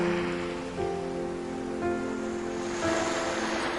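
Ocean waves wash in a steady, soft surf, with faint sustained tones lingering underneath.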